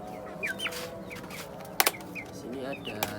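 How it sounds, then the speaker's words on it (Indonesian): Chicken with a cold making raspy snoring clucks, soft and close, a few short bird calls with brief sharp sneezing bursts in between, faint and low. "Agak ngorok ini, agak pilek ayamnya"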